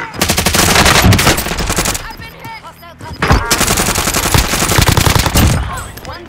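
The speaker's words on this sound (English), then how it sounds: "Matt's getting shot from everywhere." Loud, rapid automatic gunfire fills a Call of Duty Warzone battle in Verdansk, with sustained bursts, a brief lull, then more heavy firing close by.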